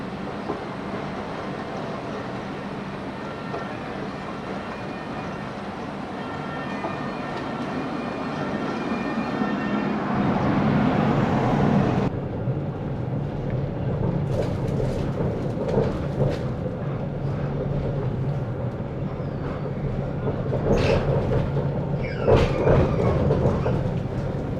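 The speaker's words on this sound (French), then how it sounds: "Donc, tram B finalement." A Bordeaux line B tram rolls past with a steady broadband rumble and hiss that builds and then shifts about halfway through, with a few sharp clanks and squeals near the end, all fairly close with no talking.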